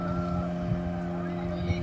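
Motorboat towing a banana ride on Getalsud Dam near Ranchi, a steady droning engine hum with wind noise across the microphone and faint voices in the background.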